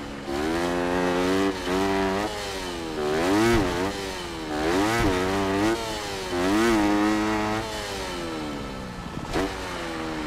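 A motorcycle engine in the Monster Energy Supercross 6 video game revs hard and steadily, its pitch climbing and falling in repeated waves through gear shifts, loud and close with no talk.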